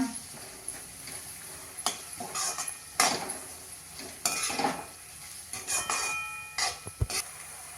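Hing and turmeric stirred in a pan for sorghum-flake onion poha, with scattered scraping and clinking strokes of a spoon against the metal and faint sizzling between them, moderately close.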